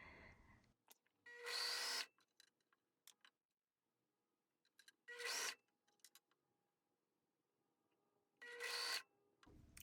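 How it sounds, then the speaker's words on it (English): Serger sewing machine stitching knit binding onto fabric, running in three short bright whirring bursts separated by quiet pauses with faint handling noises, close and clear. "I'm going to pull the clip and serge at the same time"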